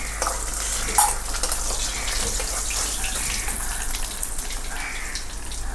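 Fish frying in hot oil in a pan, a close, continuous crackling sizzle with a brief sharper pop early on, holding steady for several seconds with no talking.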